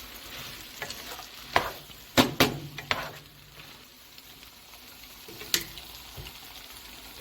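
Tomato is stirred into a dish in a pan, a low sizzle broken by several sharp spoon scrapes and knocks against the metal, no talking.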